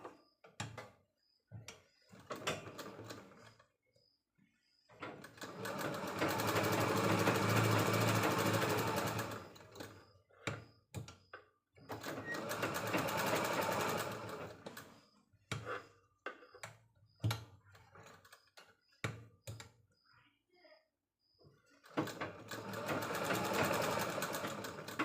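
A sewing machine stitches around a blouse sleeve in three sustained runs of fast, even whirring, separated by quieter stretches of ticks and handling clicks.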